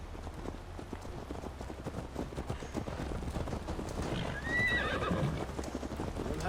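A horse galloping in Assassin's Creed Valhalla, a steady rapid clip-clop of hooves with a brief whinny near the end, moderately close under low ambient noise.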